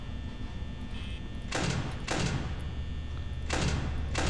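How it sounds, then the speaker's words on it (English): Heavy mechanical doors in the video game Five Nights at Freddy's slam shut three times, each a loud broadband thud with a brief rumble, over a low steady hum. "Both doors shut, which is good."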